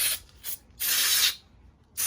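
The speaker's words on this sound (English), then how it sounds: "you can use some brake cleaner" Brake cleaner hisses from an aerosol can in short and longer bursts, sprayed into the axle threads of an enduro motorcycle, with quiet pauses between sprays.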